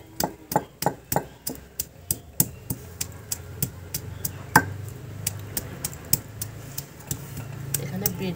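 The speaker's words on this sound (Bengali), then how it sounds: "আদা আর রসুনটাকে এবার বেটে নেব।" Ginger and garlic, about ten to twelve garlic cloves with an inch of ginger, being crushed into paste, giving a close, steady run of sharp knocks at a quick even rhythm that eases off and softens toward the end.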